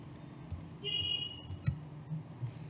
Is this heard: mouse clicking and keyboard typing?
yes